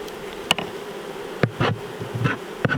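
Honey bees buzz around an open hive being assembled for winter, a steady close hum with a few sharp knocks and handling noises over it, no talking.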